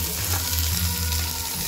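Tomatoes tipped into onions frying in hot oil in a pan for Puneri misal, giving a loud, close, continuous sizzle with no voices.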